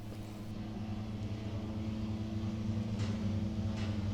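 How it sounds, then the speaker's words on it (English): A Vampire heavy bomber hexacopter drone flies at night, giving a steady, loud multi-rotor drone that holds without a break. "it's the sound of the same kind of drone that this team of two is going to be flying"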